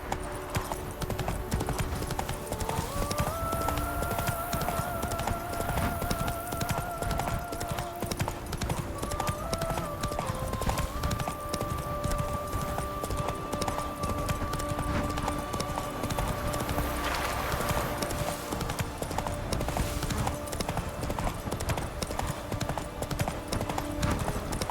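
Hoofbeats of the horse Roach in The Witcher 3: Wild Hunt, Blood and Wine, pound in a steady galloping clip-clop under game music and ambient sound throughout.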